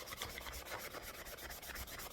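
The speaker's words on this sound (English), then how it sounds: "All you're doing is really sanding the surface of the primer." Sandpaper rubs back and forth over a primed surface in steady, even strokes, a soft close scratchy rasp with a regular rhythm.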